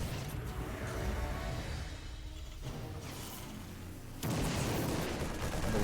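A Widow Mine fires in a StarCraft II match, a sudden booming blast that rises out of a low, rumbling battle backdrop and stays loud as it fades.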